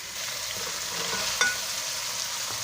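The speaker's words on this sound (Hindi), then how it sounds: "गोश्त को अच्छी तरह से भून लेंगे" Mutton and taro pieces frying in a pot, a steady close sizzle with spoon stirring and one brief clink partway through, no voices.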